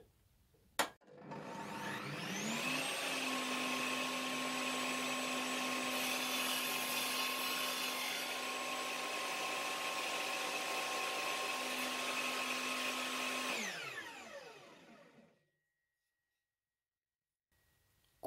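A Bosch GTS 10 XC table saw spins up with a rising whine, holds a steady loud drone through the cut, then winds down and stops, followed by quiet.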